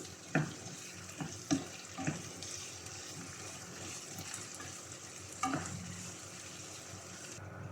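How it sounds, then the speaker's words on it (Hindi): Green chillies, tomato and other ingredients cooking over a high flame, giving a soft steady sizzle with a few stirring clinks and scrapes, quiet and close. "अब इन सारी चीज़ों को 2 से 3 मिनट हाई फ्लेम पर पकाएंगे।"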